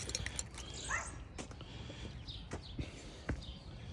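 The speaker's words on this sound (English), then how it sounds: "Neighbors have dogs." Neighbors' dogs bark and yip at a distance outdoors, several short scattered barks and whimpers over a quiet background, with faint bird calls between.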